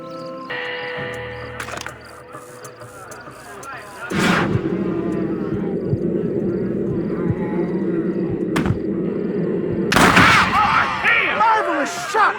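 Gunfire in the Western video game Red Dead Redemption during a shootout mission, with loud sharp shot bursts over a sustained noisy game soundscape, a strong blast near the middle and another heavy burst toward the end.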